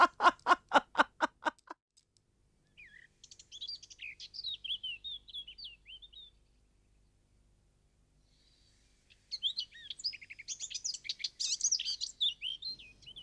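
Parrot chirping in a dramatized TV serial scene, bursts of shrill twittering calls that pause and then return, following a few loud rhythmic percussive beats at the start.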